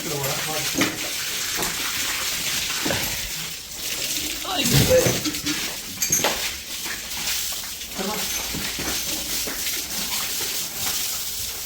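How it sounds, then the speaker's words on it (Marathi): Water splashing and pouring as a bullock is washed, steady watery rush with a few louder splashes in the middle, while people talk nearby throughout. "आता लक्ष्मीला कशी धुवायची"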